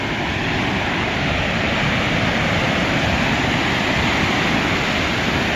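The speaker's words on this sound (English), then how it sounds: "Huge waves, by the way." Large Pacific Ocean waves breaking near Santa Monica Pier make a continuous, loud roar of surf that holds steady throughout, with no distinct individual crashes and no talking.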